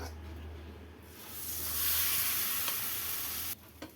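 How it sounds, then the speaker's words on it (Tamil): Millet dosa batter poured onto an oiled griddle, a low hum giving way to a rising bright hiss that holds steadily, then cuts off abruptly near the end with a brief clatter. "நார்மலாக நம்ம தோசை ஊற்றுற மாதிரி தோசைக்கல்ல எண்ணெய் தடவிட்டு தோசையை ஊற்றிக்கலாம்"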